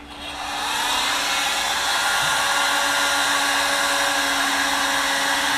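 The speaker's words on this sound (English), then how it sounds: "So we'll set it to high. It'll make a little bit of noise, but we'll do a little paint removal here." A heat gun running on high for paint removal, spinning up to a loud, steady blowing whine with a constant hum, close and alone for several seconds.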